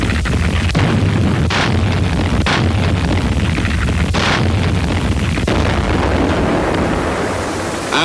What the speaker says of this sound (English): the warships laid down a barrage as cover for the main landing forces.